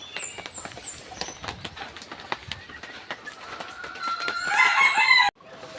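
Chickens cluck and call in a small backyard coop with Boston Gray gamefowl, scattered sharp clucks and chirps that build toward a louder rooster-like crow near the end before cutting off.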